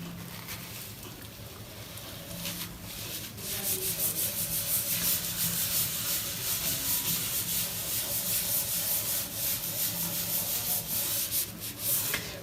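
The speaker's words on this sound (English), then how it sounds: "So I'll rub this part." Steady rubbing on a board to erase a drawn diagram during a statics lesson, a continuous scratchy swishing that grows louder after a few seconds and carries on evenly, close by with no talk.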